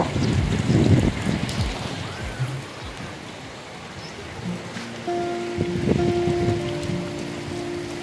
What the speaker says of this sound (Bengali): বৃষ্টির ভিতরে ভিডিওটি ধারণকৃত।